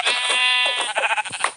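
A block-style video game sheep gives a loud, close, wavering bleat lasting about a second and a half.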